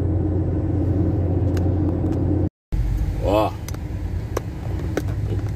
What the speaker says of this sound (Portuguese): Trânsito fluindo bem, apesar de tráfego de carros intenso.